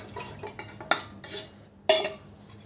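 Mustard greens saag paste being stirred in a cooking pot, with a spoon scraping and clinking against the pot in a few separate strokes, the loudest two spaced about a second apart.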